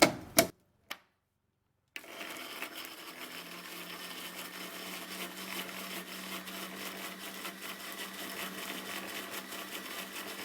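After a few sharp clicks and a brief pause, a blender whirs steadily for about eight seconds as it purées tomato, a continuous moderately loud motor drone with no voices.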